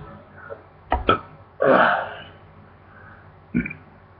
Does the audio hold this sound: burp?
yes